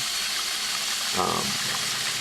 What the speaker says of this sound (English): Something about the water flowing.